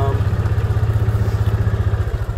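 A Kawasaki Mule utility vehicle drives through a forest, its engine putting out a steady, rhythmic low chugging throb with faint clatter, close and loud throughout.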